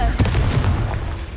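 Confringo blasting spell detonating in Hogwarts Legacy, a loud, dense low boom with a sharp burst near the start, rumbling on steadily for over a second.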